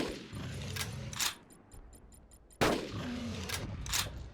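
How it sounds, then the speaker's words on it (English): Gunshots in the video game Carnivores Dinosaur Hunt as a hunter brings down a Rex: two loud sharp reports with short tails, separated by a burst of quick mechanical clicks. "one shot in the mouth and that puts it down"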